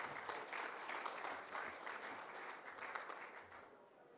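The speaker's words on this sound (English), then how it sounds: "Give them all a round of applause as well" Audience at a Capacity Europe 2022 keynote fireside chat applauding speakers as they take the middle stage seats, a dense, steady clatter of many hands from a crowd, moderately distant, fading slightly at the end.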